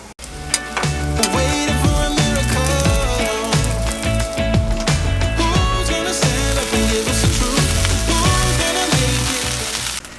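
Small bread pieces with seasoning toast in a pan on a boat's stove, giving a steady, close sizzle and crackle over a dense bed of background music.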